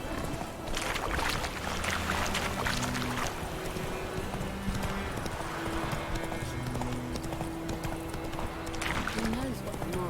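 Horse hooves clip-clop at a steady trot through The Witcher 3: Wild Hunt, with a rider's voice talking over the hoofbeats and a continuous ambient bed running beneath them.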